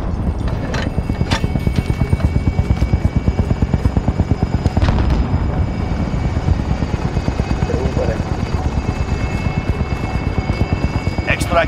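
Helicopter arriving for extraction in Call of Duty: Modern Warfare, its rotor thumping in a steady loud rhythm throughout, with scattered sharp impacts over the chopping.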